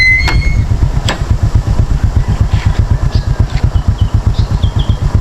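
A motorcycle engine idles in flood water with a steady, rapid low putter, close and loud, joined by a couple of faint metallic clinks and distant background noise.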